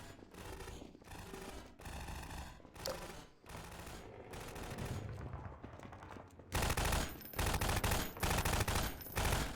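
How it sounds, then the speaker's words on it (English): Gunfire in Half-Life 2, bursts of rapid automatic shots broken by short pauses, growing louder and denser toward the end, with no voices. "Why are you shooting up there?"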